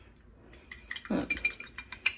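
Egg being whisked in a bowl for an egg wash, a quick series of light metallic clinks and taps against the bowl, quiet and close, after a brief soft pause.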